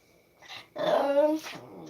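Dog begging for sausage at a meal: a single close, drawn-out high whimper lasting about half a second, with a softer whine trailing after it and no talk.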